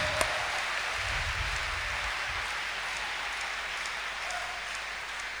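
A church congregation claps hands together during worship, a steady dense patter of applause that holds at an even level for several seconds with no voices standing out.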